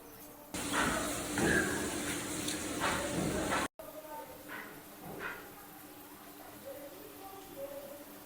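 Small shrimp frying in a pan, a loud steady sizzle for a few seconds that cuts off abruptly, followed by a quieter crackle with a voice talking over it.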